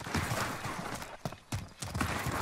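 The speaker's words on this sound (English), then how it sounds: "My horse." Horse hooves clop in Call of Duty Modern Warfare, a loose series of close, muffled hoof strikes over a low background rumble, rising and falling in short bursts.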